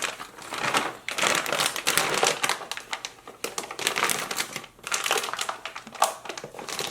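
Tough plastic packaging holding RC car front A-arms for a Losi 5ive-T rebuild is torn and crinkled open, giving a steady run of close, loud crackling and ripping bursts with no one speaking.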